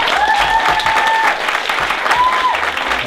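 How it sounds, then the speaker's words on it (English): An audience at a youth event breaks into loud, sustained applause, many hands clapping together, with whoops and a voice or two rising over it. "Let's give them a round of applause."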